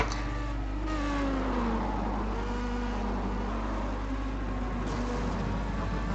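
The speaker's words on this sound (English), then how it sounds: "just listen at his engine when gets into the corner" A Star Mazda race car in a racing simulation at Brands Hatch GP sounds its engine note rising and falling as it revs through a corner, a buzzy whine heard continuously from onboard with no voices.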